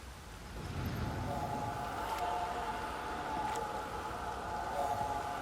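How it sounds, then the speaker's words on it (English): Heavy rain in the video game Witcher 3: Wild Hunt, a steady dense hiss of downpour filling the scene at even loudness, with a faint tonal drone running underneath. "This downpour's a bastard"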